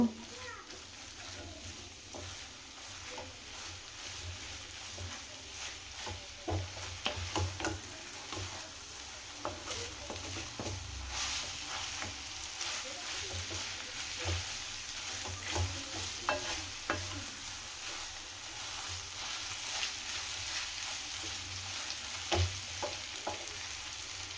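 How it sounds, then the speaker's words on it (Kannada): Vegetables and noodles stir-fried together for veg hakka noodles, a steady sizzle under repeated scraping and tapping of a spatula against the pan, close and continuous throughout, with no talking. "ತರಕಾರಿ ಮತ್ತು ವೆಜಿಟೇಬಲ್ಸ್ ಎಲ್ಲ ಚೆನ್ನಾಗಿ ಮಿಕ್ಸ್ ಆಗಬೇಕು ಈ ರೀತಿ ನೂಡಲ್ಸ್ ಜೊತೆ"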